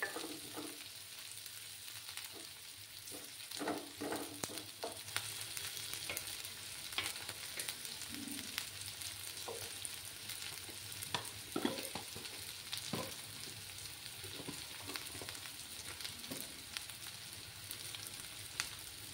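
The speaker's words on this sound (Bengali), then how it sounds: "লাল করে ভেজে নিতে হবে।" Onions fry in oil in a pan for a Bengali small-fish chorchori with potatoes, a soft continuous sizzle with occasional scrapes and taps of stirring, fairly quiet and close.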